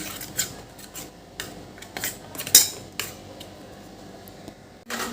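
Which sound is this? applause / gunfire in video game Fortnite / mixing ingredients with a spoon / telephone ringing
mixing ingredients with a spoon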